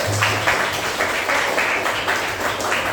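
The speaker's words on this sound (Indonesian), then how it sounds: "Luar biasa, tepuk tangan dulu." A classroom of children claps together in a rhythmic, patterned burst, loud and close, with regular pulses of hand claps repeating across the stretch.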